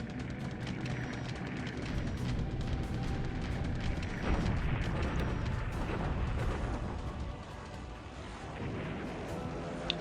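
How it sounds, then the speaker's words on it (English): A ship sinking in a WWII naval strategy video game gives a continuous deep rumbling, groaning roar that swells and churns steadily for about ten seconds, with no voices. "We do hear a ship sinking noise"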